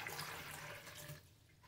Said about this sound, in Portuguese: Aqui a gente vai tá colocando a água